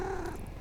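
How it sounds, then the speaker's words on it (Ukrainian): A cat in the Night Bus video game purrs in a brief, low, rumbling burst, steady and close with a faint tone above it. "А, це кіт."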